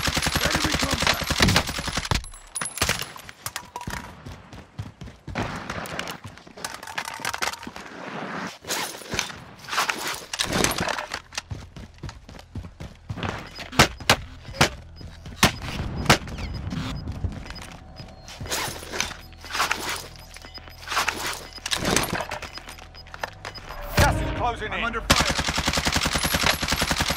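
Dense Call of Duty gunfire with bursts of automatic rifle fire and single shots rattling almost nonstop, near and loud, mixed with footsteps and gear movement, and brief game voices calling out among the shots.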